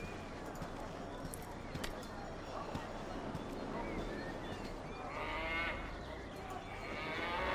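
A cow in the Baldur's Gate role-playing game lows over an ambient outdoor game soundscape, with a brighter burst of sound near the end.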